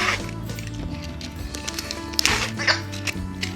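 A few short squeaky quacks from a toy duck, close by, among light handling noises.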